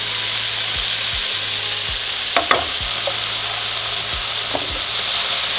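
Peppers and garlic fry in a pan with a steady, bright sizzle, broken by a few soft knocks and scrapes as the food is stirred and tossed.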